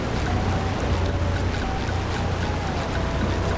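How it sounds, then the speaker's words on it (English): Loud, steady rushing water from a waterfall in the SpongeBob Battle for Bikini Bottom video game, a dense constant roar filling the whole stretch without pause. "the loud waterfall sound effects"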